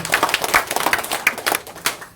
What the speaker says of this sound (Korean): 그럼 이럴 때는 박수도 한번 치시고